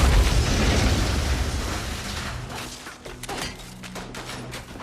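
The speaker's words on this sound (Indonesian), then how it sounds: "tiba-tiba saja mereka diserang menggunakan senjata RPG" An RPG rocket blast in an action war film, a loud booming explosion that rolls off into a fading rumble with scattered debris and crackling.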